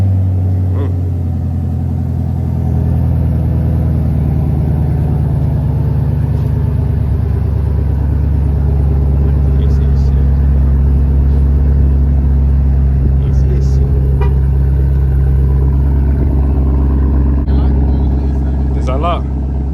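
Supercharged high-horsepower car engine idling with a steady deep rumble and occasional light revs, close and continuous, with faint voices in the background.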